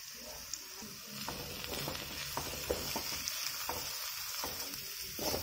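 A masala mix with chili powder and meat masala for a mussel stir-fry is stirred in a frying pan, a steady sizzle broken by repeated soft scraping strokes of the spoon, close and even.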